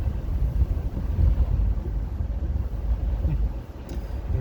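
Steady low rumble of a car driving on the road, with broadband wind and road noise filling the cabin continuously and fairly loud, no talk over it.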